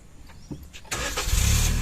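A car's engine cranks and catches on an uphill road, with a few faint clicks followed by a sudden loud roar that steadies into a rough, building idle.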